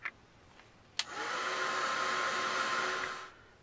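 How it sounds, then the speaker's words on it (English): A heat tool drying painted leaves for an art journal switches on with a click and blows a steady, loud whirring hiss for about two seconds before cutting off, nearby with no talk. "I'm going to shoot them with my heat tool until they start to want to fly away"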